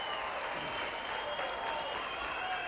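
Studio audience applause on the television video-game show Games Master, steady and continuous for the whole stretch, moderately loud with a faint tonal hum underneath.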